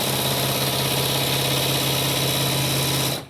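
A sewing machine runs a straight quarter-inch channel seam on a fabric face mask, a loud continuous hum and rapid needle rattle up close that cuts off at the end, no voices.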